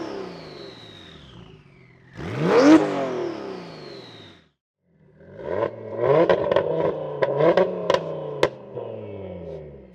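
High-performance street cars, a 1016 bhp Audi RS3 and a 1000 bhp turbo rival, rev their engines for a sound check: a rising rev, a pause, then a loud, close engine burst with sharp pops and crackles over a steady rumble.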